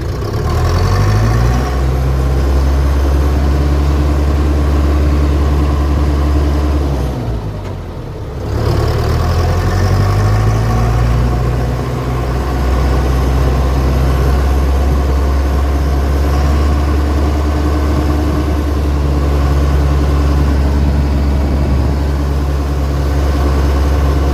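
An FM World WD504K tractor with 105 hours of use runs loud and close, a steady low engine drone whose pitch dips briefly once and then settles again, with no talking.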